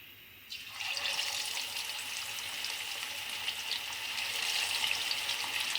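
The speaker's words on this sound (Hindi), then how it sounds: "चिकन विंग्स को डीप फ्राई करेंगे" Chicken wings drop into hot oil for deep frying, setting off a sudden burst of loud, bright bubbling sizzle that then holds steady and close with no talking.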